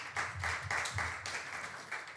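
Faint, distant audience applause at a French public discussion, a short patter of clapping hands.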